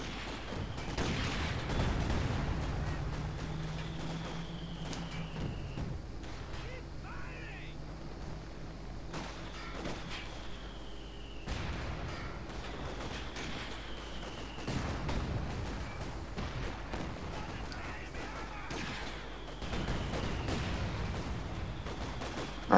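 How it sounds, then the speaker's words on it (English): Artillery smoke barrage in the strategy game Company of Heroes 2, a series of dull booms and bursts spaced every few seconds amid continuous battle noise, with people talking throughout. "I called in smoke barrage."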